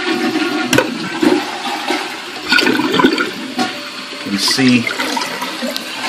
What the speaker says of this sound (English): Let's see what's going on when I flush.